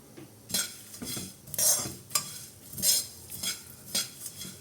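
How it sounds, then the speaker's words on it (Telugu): Cinnamon and star anise fry on a low flame while a spoon stirs and scrapes the pan in repeated metallic strokes over a faint sizzle. Close and fairly loud, with no talking. "ఒక 6 అనాస్ పూలు వేసుకుని లో ఫ్లేమ్ మీద వీటిని ఫ్రై చేసుకోవాలన్నమాట"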